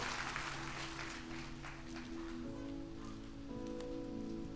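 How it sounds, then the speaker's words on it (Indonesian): Steady clapping from a church congregation, a dense patter of hands over sustained organ-like music, continuing throughout. "kita beri tepuk tangan"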